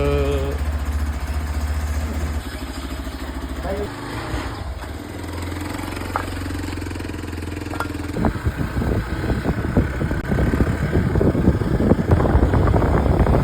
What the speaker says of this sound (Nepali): सो अब हामी गर्छौँ बिहान बिहान कोल्ड स्टार्ट